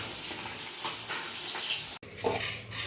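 Fish fries in a pan with a soft, steady sizzle and a light hiss at low volume, broken by a brief dropout and a small clink of utensils near the end.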